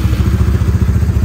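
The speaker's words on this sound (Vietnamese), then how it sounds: "Thì mình sẽ nổ máy cho các bạn nghe." A Yamaha Winner motorcycle with a glowing-hot stator flywheel runs loud and close, a steady rhythmic engine throb with a clattering, pulsing idle.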